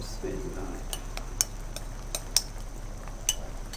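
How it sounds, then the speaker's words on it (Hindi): A spoon clinks against a metal pot several times at an irregular pace while stirring a cornflour mixture, light sharp taps over a soft background hiss. "अच्छी तरह से फ़ौरन ही मिक्स कर दें और फिर चम्मच चलाते रहें इसके उबलने तक"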